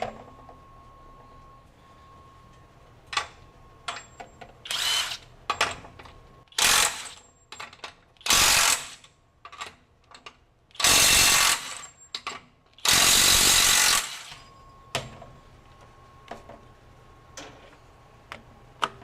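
A cordless impact wrench runs in reverse at speed 3 in nut-busting mode, firing several loud, harsh bursts of rapid hammering, each one to two seconds long. Small ticks and clicks fall between the bursts.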